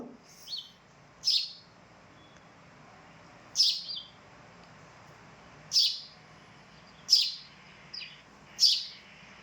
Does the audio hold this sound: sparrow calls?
yes